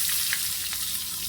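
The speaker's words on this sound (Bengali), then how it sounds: "এখন দিয়ে দিচ্ছি পেঁয়াজ কুচি।" Chopped onion drops into hot oil in a wok-style pan while cooking hilsa fish curry, giving a steady, fairly faint sizzle with a couple of small crackles.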